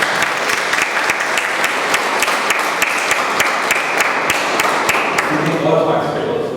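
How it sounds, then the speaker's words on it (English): A Toastmasters club audience applauds steadily during an education session on table topics, the dense clapping filling the room at even strength for several seconds before thinning slightly at the end. "Yeah, big round of applause."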